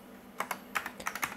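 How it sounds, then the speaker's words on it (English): Keys clack on a Tandy TRS-80 2000 computer keyboard, about ten separate presses in an uneven typing rhythm, close and crisp with no voices. "I've been typing some things in my diary."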